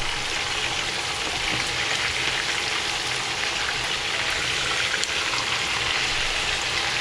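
Chicken frying in a pan for arroz con guandules y pollo frito, a steady loud sizzle of hot oil crackling continuously with faint pops and no voices.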